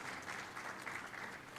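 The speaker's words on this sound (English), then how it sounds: "Give a big applause for achieving the great credentials" Steady applause from a convocation audience for graduates at the NMIMS Bangalore campus, a dense continuous wash of clapping at even level throughout.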